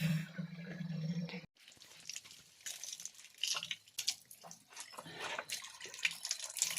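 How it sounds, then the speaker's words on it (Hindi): Water runs from an outdoor tap at a school as a vessel is filled, a steady splashing and gurgling that shifts in pitch, with a brief break early on, moderately close. "यहाँ हम भर रहे हैं पानी।"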